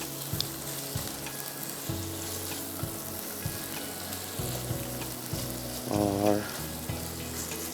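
Chicken handi sautéing in a pan makes a constant loud sizzle with thumps and scrapes of stirring, and a brief spoken word over it.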